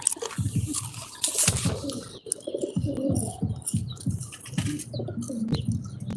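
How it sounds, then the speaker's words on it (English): Pigeons coo repeatedly while being fed, soft throaty calls close by, mixed with light pattering and faint chirps in the background. "I'm just feeding the birds."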